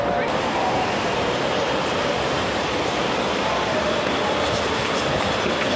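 Metro rail train ride, a steady loud roar of rumble and rushing air from start to end.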